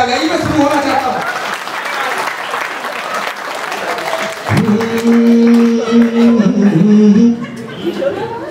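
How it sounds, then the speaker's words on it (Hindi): Audience clapping at a kavi sammelan poetry gathering at Bilaspur University, a steady wash of applause with scattered chuckles, while a voice recites melodic verse over it in the second half. "आप भी धीरे धीरे तालियों पे आ जाइए"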